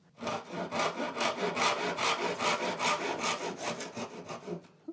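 Wood pieces for a Gretsch 6120-style guitar build are hand-sawn, giving a steady back-and-forth rasping rhythm of about a dozen even strokes, close and fairly loud, with no talk.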